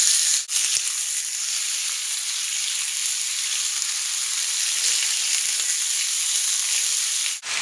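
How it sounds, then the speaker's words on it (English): Ribeye steak about an inch thick sears in hot oil in a pan, a loud, steady broadband sizzle that holds evenly without a break and with no voices over it. "Do you hear that nice sizzle?"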